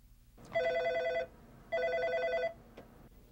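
A telephone in a food industry lab rings twice, each a bright electronic trill lasting under a second with a short gap between, fairly clear and alone over quiet room tone.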